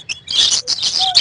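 Exotic caged birds at a pet market in Kolkata let out a short burst of bright, high chirps and tweets, close and loud, several overlapping calls within about a second.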